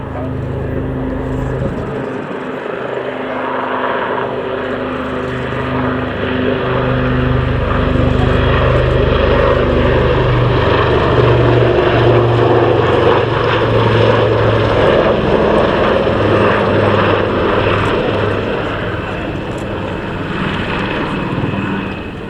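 Propeller aircraft with a Bristol Pegasus engine flying at the Royal Air Force Cosford Airshow, a loud sustained droning engine that swells and shifts pitch as it passes, with a voice talking over it.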